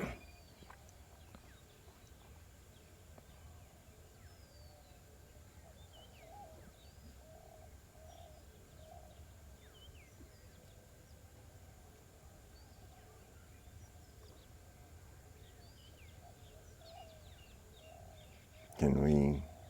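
Birds coo and call softly in the distance by a river in fog, faint over a low continuous ambient hush, ending in a brief loud bump.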